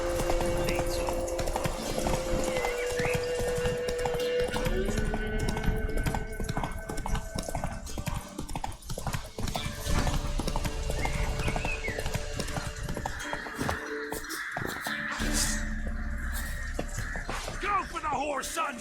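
Horse galloping in The Witcher 3 video game: continuous rapid clip-clop of hooves under game music, ambient effects and occasional character voices, with a whinny partway through.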